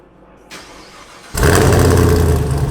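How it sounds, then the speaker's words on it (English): A 2022 Chevy Camaro with a newly installed ZL1 fuel pump cranks briefly, then fires and settles into a loud, steady idle close by. "let's go ahead and freaking see if the car's gonna start now with the fuel pump"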